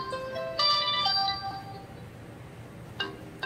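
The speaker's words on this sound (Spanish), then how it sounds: "Lo mismo en lo que es el tono de llamada." A smartwatch ringtone plays a short bright electronic melody of several chiming notes that rings clearly for about a second and then fades, followed later by a couple of faint clicks.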